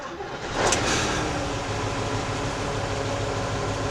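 A Mercedes-Benz OM 422A V8 diesel engine in a Liebherr LTM 1070 mobile crane turns over on a cold start and catches, then runs at a steady, rough, noisy idle, droning continuously.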